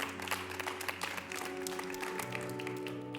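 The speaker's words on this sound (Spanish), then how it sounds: "Denle un fuerte aplauso a Dios," Applause from a church congregation during a Spanish-language service, fairly quiet clapping over sustained tonal sound, likely music or keyboard, with no talk.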